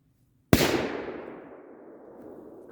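A single firecracker goes off with a sharp, loud bang out of near silence, followed by a long decaying echo that fades over a couple of seconds, with no voices.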